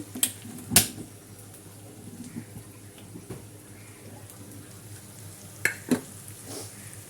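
Onions frying in a pan for a Bengali home cooking dish, a steady low sizzle with a few sharp clicks and stirring scrapes of the utensil, close and moderately quiet.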